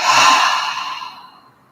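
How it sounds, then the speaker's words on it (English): A single deep breath drawn in and then released in one long, slow exhale during a guided meditation, close and soft, fading gradually to quiet with no talking. "take one final big, deep breath in and let it all out"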